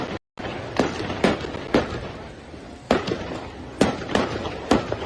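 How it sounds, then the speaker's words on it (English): Repeated sharp cracks and bangs, like gunfire or firecrackers, from a fire around a festival stage, recorded from a distance over steady crowd and ambient noise, coming irregularly about every half second to second. "Sounds like consistent gunfire or something exploding"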